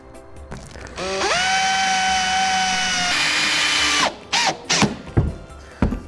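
Power drill driving screws into a wooden bat box: a close, loud whirring run lasting about three seconds that shifts in pitch, followed by short bursts and clicks of the tool.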